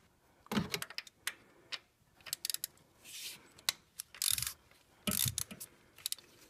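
A ratchet loosens a 10 mm bolt on the intake manifold of a Toyota Sienna's 3.5L V6: short bursts of close, crisp clicking come in uneven spurts with brief pauses between them.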